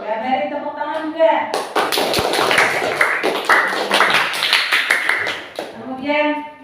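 Applause from a group in a school classroom breaks out after speech, a dense burst of clapping lasting several seconds, with talking before and after it.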